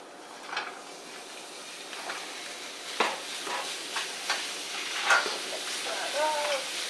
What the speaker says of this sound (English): I'm going to throw the turkey on now.